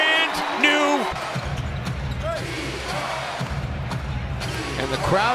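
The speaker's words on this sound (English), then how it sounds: "And the crowd now starting to make a little bit of noise." A basketball arena crowd at a Phoenix Suns game against the Minnesota Timberwolves rises into a low, steady roar, with ball bounces and squeaks on the court and a commentator talking over the noise.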